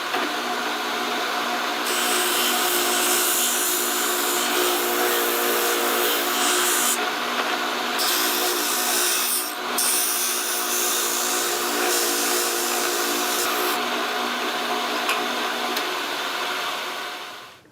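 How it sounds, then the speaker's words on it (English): A bandsaw and sander shape a wooden steel-string guitar bridge: a steady, loud machine whir with a broad rushing texture runs throughout, swelling and easing as the wood is fed, with no talk. "I'll rough this out on the bandsaw and then do the final thicknessing on the sander"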